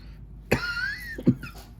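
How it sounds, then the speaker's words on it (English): Two brief coughs, close and moderately loud, spaced less than a second apart over a faint background hum. "Sorry about my cough"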